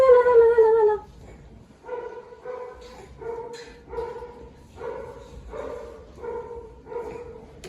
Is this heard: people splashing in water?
no